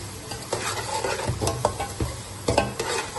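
Masala with tomatoes and green chilies fries in a pan: a constant close sizzle broken by several sharp spatula scrapes and stirring knocks, no voices.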